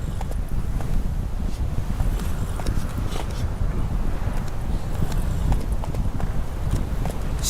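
Rhythmic clip-clop of a horse galloping in The Witcher 3, quick hoofbeats pounding steadily and close over a low rumbling background.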